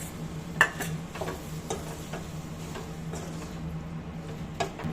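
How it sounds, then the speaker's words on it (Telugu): Marinated prawns frying in a pan with tomato and onion for prawn dum biryani, giving a low steady sizzle with occasional soft clicks and stirring taps, fairly quiet and with no talking. "ప్రాన్స్ ఇదంతా వేసి ఫ్రై చేసుకుందాం"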